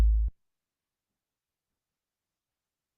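A single short kick drum one-hit from EarSketch, a low thud right at the start that cuts off within a third of a second, followed by silence.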